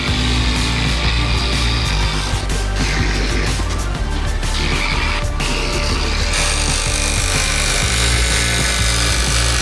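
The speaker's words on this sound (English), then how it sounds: "So I'm going to cut this out" A power saw whines steadily through wood, cutting out a piece to fit a van door, loud and close, with the pitch shifting as the blade bites, continuing without pause.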